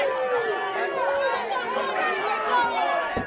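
An angry street crowd shouts and jeers at the Prime Minister's car as it is blocked and surrounded by police. Many overlapping voices yell at a loud, steady level close by, with a sharp bang near the end.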